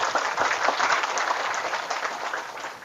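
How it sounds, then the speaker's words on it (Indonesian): An audience at an Indonesian religious talk breaks into applause, a steady dense spread of clapping at moderate loudness that eases slightly toward the end. "Tepuk tangan dulu."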